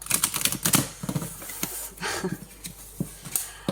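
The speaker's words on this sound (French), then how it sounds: "Alors, je bats les cartes." Oracle cards are shuffled by hand during a horoscope reading, giving rapid close clicking riffles and flicks in quick bursts, loud and crisp, with a short lull midway and no talking.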